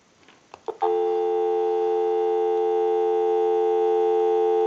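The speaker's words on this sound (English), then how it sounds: "We can go ahead and give you some dial tone and we'll make that call." Bell South single-slot payphone with an electronic keypad conversion giving a dial tone: a few handset clicks and knocks, then a steady, even two-note hum that continues unbroken to the end.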